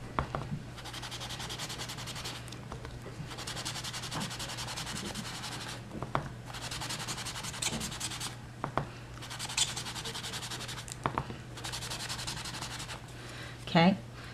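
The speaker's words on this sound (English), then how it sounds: "I'm just going to rub it into the masking tape so you can see that it's grabbing the edges of the masking" Sponge rubbing crumb cake ink into masking tape in close, soft scrubbing strokes, about six bursts of rhythmic rasping separated by short pauses.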